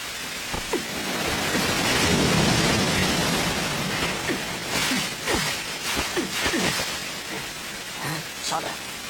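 Steady rain pours outdoors with a dense hiss and scattered thunder rumbles, in an animated boxing series scene; faint voices and brief knocks punctuate the wash of rain.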